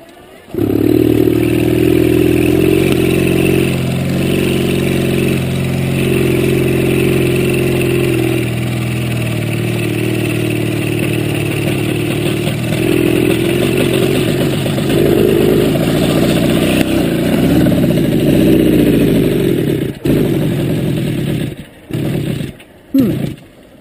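RUMI Corsa vintage motorcycle engine starting on ignition, then idling and revving in repeated loud bursts close by, with rising and falling throttle for about twenty seconds before sputtering and cutting out.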